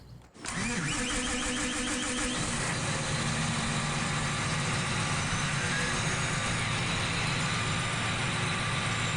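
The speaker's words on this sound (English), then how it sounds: "Let's grab a tractor here." A tractor engine in the Farming Simulator 17 farming game cranks over and settles into a steady, loud idle that holds for several seconds with no talking.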